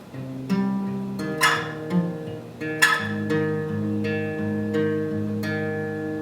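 Finger-picked acoustic guitar chords ring out one after another, moving downward, with plucked notes sustaining clearly and no voices.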